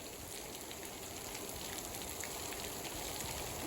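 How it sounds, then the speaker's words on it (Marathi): Heavy rain pours down in a monsoon downpour, a dense, even hiss of drops on surfaces that holds constant from start to finish, fairly soft and with no voices. "पाऊस लय जोरामध्ये आहे."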